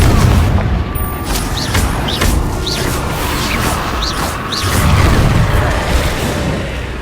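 Repeated Confringo spell explosions boom and burst in Hogwarts Legacy combat during San Bakar's Trial, heavy low rumbles with sharp crackling bursts and whooshing spell sounds layered over continuous battle noise.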